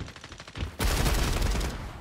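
Sudden burst of rapid gunfire in the 5v5 first-person hero shooter FragPunk, loud and sustained for over a second after a quieter stretch of game sounds.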